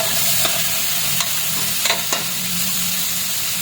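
Pork fries in a pan with soy sauce and calamansi, a steady close hiss of sizzling broken by a few sharp clinks of stirring.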